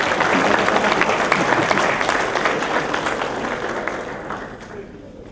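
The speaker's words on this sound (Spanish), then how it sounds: "Un aplauso, por favor." Applause from a crowd of cooperative members at a coffee and cocoa growers' gathering, dense and steady clapping that slowly fades toward the end.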